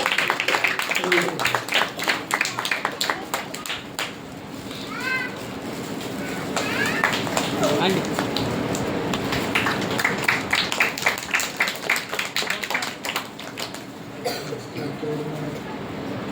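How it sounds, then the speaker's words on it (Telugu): An audience at a church Sunday School program in Manuguru claps for a prize winner, with a steady patter of applause alongside children's voices and a speaker talking over it. "క్లాప్స్ కొట్టండి"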